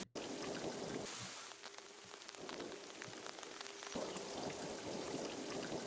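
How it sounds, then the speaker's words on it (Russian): Rain falls steadily in a dense, even patter close by, with faint scattered drops standing out. "Дождик."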